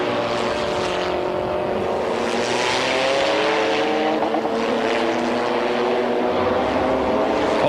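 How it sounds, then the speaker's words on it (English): GT1 and GT2 race cars, including a Freisinger Porsche and a Stadler Porsche 911, roar past at Donington in a 1995 BPR Global GT race, a loud, sustained chorus of engines rising and falling in pitch as they pass close by. "Wolfgang Kaufmann's GT1 Freisinger Porsche ahead of Helmut Koenig's GT2 Stadler 911."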